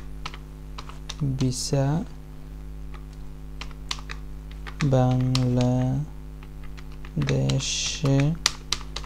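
Computer keyboard typing, light rapid clicks scattered through the clip, close and fairly quiet, with someone speaking at intervals over the keystrokes.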